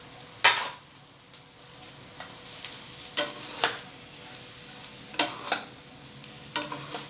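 Glass noodles and bean sprouts stir-fried in a pan, with repeated scraping strokes of a utensil against metal over a steady sizzle, close and fairly loud, strokes spaced roughly a second apart.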